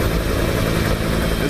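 A rescue helicopter approaches in frigid, snowy weather, its rotor and engine forming a loud, steady drone that fills the whole short stretch without a break.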